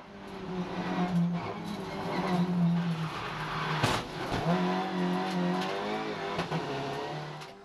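A Seat Leon touring race car's engine drones loudly in the cabin on track, rising and falling through gear changes with a sharp shift crack midway, alone without voices.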